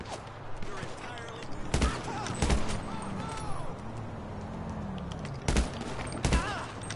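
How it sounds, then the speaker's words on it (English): Tracer rounds firing in a video game: several loud bursts of gunfire break out at intervals, two close together early and two more near the end, over steady in-game background noise while people talk throughout. "These are trace rounds."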